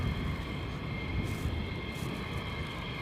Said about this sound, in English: I hear jets over there.